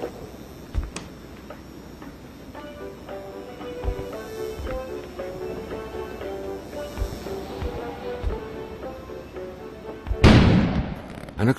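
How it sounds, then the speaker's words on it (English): An explosion outside in the video game Kona bursts loudly and suddenly near the end, cutting through quiet, tense background music with soft ticking sounds. "An explosion suddenly occurred outside."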